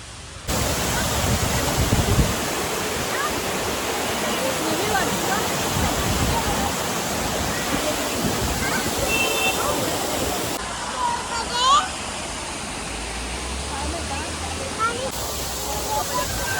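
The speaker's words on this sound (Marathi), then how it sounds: "तर नेरळ माथेरान रोडवरती हा एक छोटासा धबधबा आहे" A small roadside waterfall on the Neral–Matheran road during the monsoon, heard as a close, continuous rushing roar of falling water that stays loud and even throughout.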